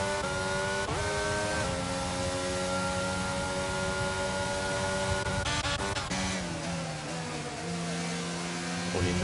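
A race car at Monza in a racing sim, its engine revving loudly and continuously with shifting pitch as the throttle is worked, close and steady throughout.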